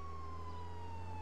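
A police siren in the video game Contraband Police wails faintly as a slow tone above a constant low vehicle engine hum, heard alone for a brief moment.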